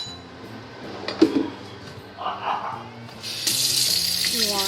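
Water runs from a kitchen tap at home after cooking, starting with a splash and turning into a steady rushing stream, with a few light clinks and background music throughout.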